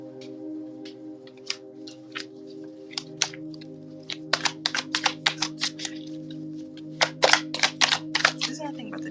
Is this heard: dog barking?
no